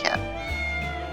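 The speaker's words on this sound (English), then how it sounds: "I think that's a cat." Cat meowing in the video game Triangle Strategy, a short plaintive meow repeated twice over a steady musical background, near and moderately loud.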